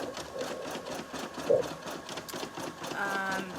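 A sewing machine stitching a robe hums steadily at moderate volume with a brief bump midway, while a person talks over it.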